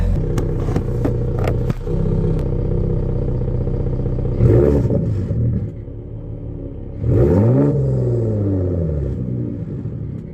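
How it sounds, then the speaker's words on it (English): A pickup truck engine is revved by pressing the gas, giving loud, close rumbling bursts that rise and fall in pitch, with a long rising rev in the middle and clattering mechanical noise around it. "I'm gonna set this down and I'm gonna get on the gas a little bit."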